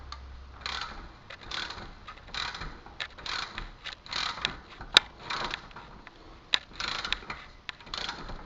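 A ratchet tightens a fuel injector on a Dodge Ram Cummins diesel, producing a series of close, crisp clicking sweeps in a steady back-and-forth rhythm with sharper ticks scattered through.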